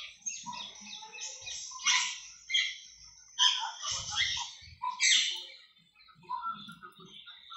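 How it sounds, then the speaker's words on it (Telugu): Birds in a tall banyan tree by a Pochamma temple, bursts of shrill chirping and chattering calls coming and going in waves, with faint low sounds underneath. "పక్షులు చూడండి ఎట్లా ఉన్నాయో"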